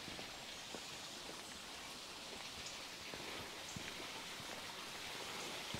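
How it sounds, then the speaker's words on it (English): Steady broadband rush of running water in Buskett Woodlands, Malta, a continuous stream sound with scattered droplet-like ticks, fairly faint and even throughout, with no voices. "Look how much running water one can find."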